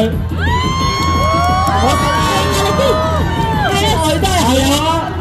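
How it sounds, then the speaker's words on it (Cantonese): A crowd cheers, whoops and shouts loudly and without a break during the Cheung Chau bun scrambling final, with overlapping voices and a steady roar of excitement. "大家繼續俾啲掌聲鼓勵下佢。"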